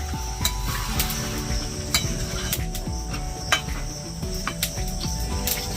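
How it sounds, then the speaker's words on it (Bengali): Chicken curry sizzles loudly in a pan as a little water goes in, a close, constant frying hiss broken by occasional sharp clinks of a utensil. "অল্প করে একটু জল দিয়ে দেবো"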